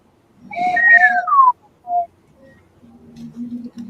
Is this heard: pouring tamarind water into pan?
no